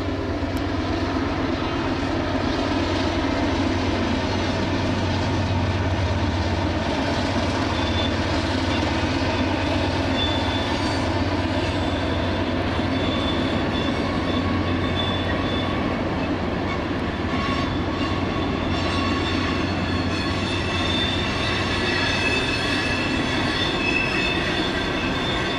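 A BNSF/MRL freight train climbs westbound up Mullan Pass in Montana, its diesel locomotives droning loud and unbroken with heavy rumble, wheel and rail noise, and faint squeals as it grinds steadily past close by.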